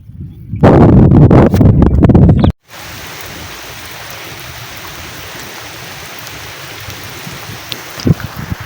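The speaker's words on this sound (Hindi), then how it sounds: "बारिश अलहमदुलिल्लाह सही ज़बरदस्त हो रही है बारिश में" Heavy rain pours steadily as a broad, even wash of noise after a brief loud burst of rumbling at the start, with a faint knock near the end and no one talking.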